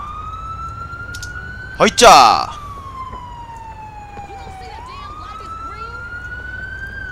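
An ambulance siren in GTA IV wails in one long, slowly sliding tone that dips and then rises again, with a brief loud burst of noise and a short shout partway through.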